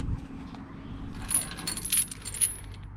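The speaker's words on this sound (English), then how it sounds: "This is your safety chain." Metal trailer safety chain rattles and clinks as it is handled, with several bright jangling bursts over a low background rumble.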